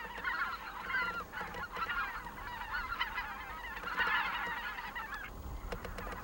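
A flock of migratory geese honks continuously in a wetland rice-field area, many overlapping calls forming a loud, dense chorus that swells and fades across the scene.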